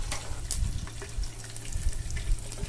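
Ten peeled garlic cloves and leaves sizzle in hot oil for chicken biryani, a steady close crackle with small pops and occasional stirring clatter.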